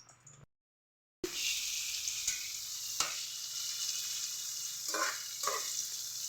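Tofu pieces sizzle steadily in hot cooking oil, a continuous bright hiss that starts abruptly after a brief pause, with a few louder crackles and pops rising through the frying.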